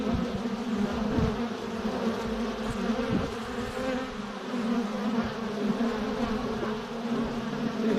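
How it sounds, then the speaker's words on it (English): Honey bees, mostly Italians, buzz around apple blossom in April, a dense, lively drone of many insects close by with individual bees passing nearer, and no talk. "we got bees finding that apple blossom."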